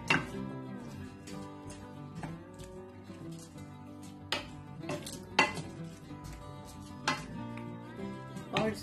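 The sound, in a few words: mixing chopped tomatoes and karahi ingredients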